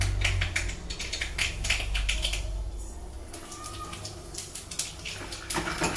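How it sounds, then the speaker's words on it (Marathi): Mustard seeds and cumin sizzle and pop in hot oil, with dense, irregular crackles close by. The bursts are sharp and run steadily from start to finish. "तर आता तेल तापलं तर सगळ्यात आधी मोहरी"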